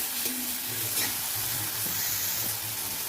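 Snake gourd seeds deep fry in a pan, giving a steady crackling sizzle with occasional stirring scrapes and a low humming undertone, close and consistent throughout without speech.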